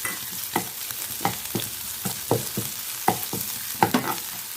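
Ginger-garlic paste frying with browned onions in a pan for a cluster bean dish, giving a steady sizzle broken by repeated sharp scraping stir strokes, close and fairly loud with no talking.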